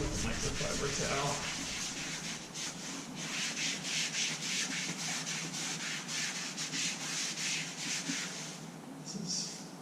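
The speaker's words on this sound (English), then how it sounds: "wipe off with a microfiber towel" A microfiber towel wipes Tesla Model Y interior leather, making a repeated soft rubbing swish in steady strokes, close and moderately quiet.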